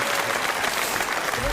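Live audience at the Olympia theatre in Paris breaks into applause, a dense wash of clapping mixed with crowd noise and a voice talking over it, brief and fairly loud.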